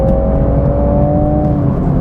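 A 2023 Toyota Supra with a manual gearbox and automatic rev matching runs its engine in a loud, steady, close whirring drone with a sustained tone and no pauses.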